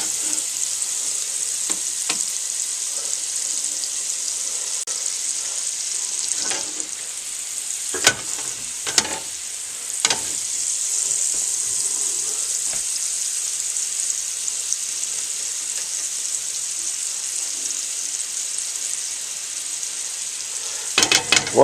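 Three tablespoons of butter melt in a pan with a steady, close frying hiss and sizzle that runs throughout, broken by a few faint clicks and scrapes.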